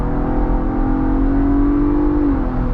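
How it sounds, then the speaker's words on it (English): The engine and exhaust of a 2024 Ford Bronco Raptor in sport mode, heard from inside as a steady, loud engine drone that rises slightly in pitch before settling. "And you can hear how good this engine sounds"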